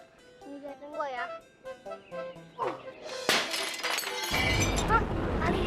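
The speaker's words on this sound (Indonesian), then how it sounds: "Kacanya jadi pecah kan?" A glass window shatters in an Indonesian mystery TV drama scene, a sudden crash followed by a sustained spray of breaking glass, with voices and music-like tones heard before it.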